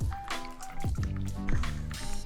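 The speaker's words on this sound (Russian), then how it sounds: "Далее нам нужна вода, заливаем в миску." Water pours into a bowl in uneven glugs and splashes, with wet dripping and squishy sloshes repeating close by over a couple of seconds.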